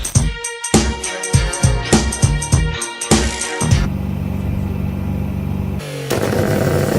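Rhythmic music plays first, then gives way to a steady, loud engine and road drone from inside a crashed Nissan GT-R being driven toward Las Vegas.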